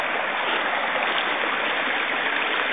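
Overflowing spring water gushing out of a hole in the ground at a spot on the Appalachian Trail, a steady dense rushing splash heard up close with no talking.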